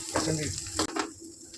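Eggs frying in hot oil for egg bhurji, a short burst of sizzling and spattering with a quick break in the middle, close and moderately loud.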